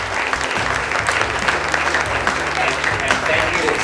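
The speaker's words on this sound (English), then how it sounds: "Let's give a round of applause." An audience at a transportation panel event applauds continuously, a dense crowd clapping heard up close over a low background hum.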